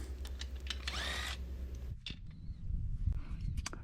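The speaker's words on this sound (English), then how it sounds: "I use the electric impact to unthread them the rest of the way" Brief bursts of an electric impact wrench unthreading nuts, near and loud, a short rising whine in the middle, then clanks and handling noises.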